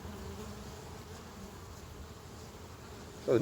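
Old honey bees buzz in a steady low drone in a hive, many insects humming together close by, with a brief louder buzz as one passes near at the end.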